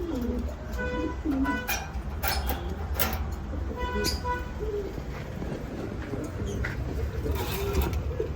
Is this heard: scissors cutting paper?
no